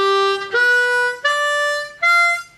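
Harmonica plays four sustained single notes of a chord one after another, each clear and bright with rich overtones, close and alone.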